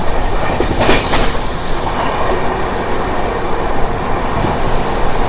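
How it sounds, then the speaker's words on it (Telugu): A passenger train running from Howrah to SMT Bengaluru passes close by, its loud rumble and rhythmic clatter of wheels on rails heard alongside, with a brief screech early on and no talking. "మన పక్కన ట్రైన్ కానీ చూసుకుంటే ఇది వచ్చేసి మనకు హౌరా నుంచి SMT బెంగళూరు వెళ్ళే ట్రైను"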